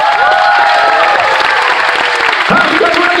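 A crowd at a South Florida Fair hypnotist show applauds and cheers loudly, a dense, continuous roar of clapping and shouts right up close.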